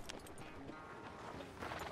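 Horse hooves clip-clopping at a slow, steady walk in Red Dead Redemption 2, soft and continuous under a light ambient bed with no talking.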